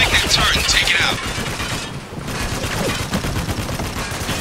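.50 cal turret machine gun in Spec Ops: The Line firing in dense, continuous bursts amid loud battlefield noise, with a shouting voice over the gunfire.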